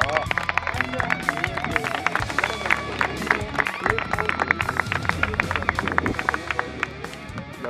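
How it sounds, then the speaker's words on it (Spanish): Applause ripples through a crowd at a shooting club, dense irregular clapping under a murmur of voices and babble, steady throughout. "Un aplauso para la comisión."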